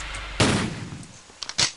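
A sharp gunshot blast cracks out in the video game The Alluring Darkness, followed by a couple of quicker, softer shots near the end, with a synthetic game-like quality.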